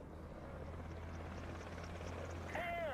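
Apache attack helicopter in War Thunder, a steady low rotor drone with constant engine hum, moderately faint, ending with a rising whine and a brief tonal sweep.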